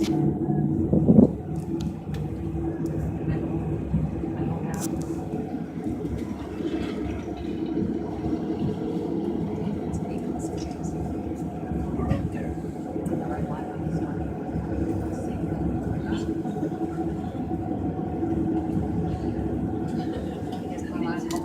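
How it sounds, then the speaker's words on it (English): The Sandia Peak aerial tramway car rides up the mountain with a steady low rumble and hum, while muffled voices murmur inside the cabin. "we are riding the watermelon tram on the Watermelon Mountain to the Watermelon Peak"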